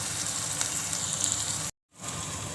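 Tomatoes and curry leaves fry in a pan with a continuous close crackling sizzle, broken by a brief silent gap before the sizzling resumes.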